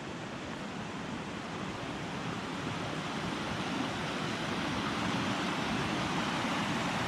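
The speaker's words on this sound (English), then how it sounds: "I keep telling Karen I hear a lot of water to our left. It's getting closer." Flowing creek on the North Fork Skokomish River Trail in an Olympic forest: a steady, broad rushing hiss of running water, even and continuous, growing slightly louder over seven seconds with no voices.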